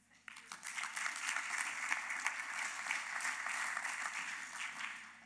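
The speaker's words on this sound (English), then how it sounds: "I think she is entitled to another round of applause." Applause from a tech conference audience swells in after a sudden start and holds steady, moderately loud and slightly distant, then tapers at the end, with a low hum underneath.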